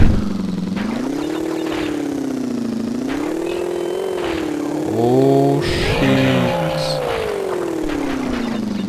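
Motorboat engine from the video game Crash Bandicoot 3, a steady buzzing drone that rises and falls in pitch as the boat speeds and turns, with splashing and game effects midway and a brief exclamation from a player.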